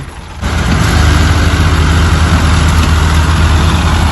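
Three tractors, one a small Scotts, hitched together to haul a single heavy trolley on a farm, their engines rumbling in a loud, steady low drone that rises after a quiet first half-second and holds throughout.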